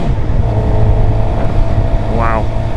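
2012 Suzuki GSX-R 750 motorcycle on a ride, its engine a steady loud drone buried under heavy wind rush throughout, with a brief rising whine near the end.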